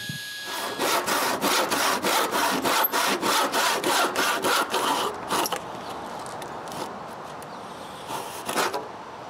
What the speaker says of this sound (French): Je dois couper un montant avec l'angle du toit.